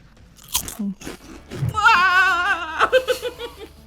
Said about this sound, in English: the crunch of it is so crunchy